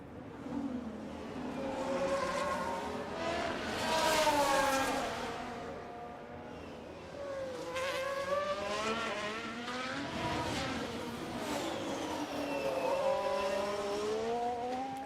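Race cars at racing speed on the Baku street circuit in F1 Manager 24, engines whining and rising in pitch as they pass, continuous and fairly loud, with no talk.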